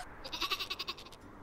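Sheep in the video game Worms W.M.D give a quick run of stuttering, pulsing bleats, fairly close and clear, over a faint game backdrop with no talk.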